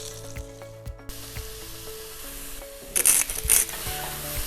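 Lamb shanks browning in a pot sizzle and fry steadily, with occasional stirring scrapes and a louder burst of spitting partway through, close and alone with no talking.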